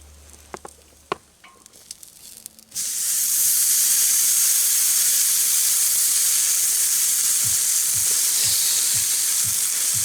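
A few clicks and clatters, then a sudden loud, steady sizzle of a pork chop frying on a hot surface, hissing continuously with faint scraping underneath.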